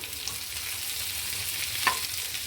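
Boiled potatoes frying in a pan for a home breakfast, a steady soft sizzle with a faint clink near the end, no voices.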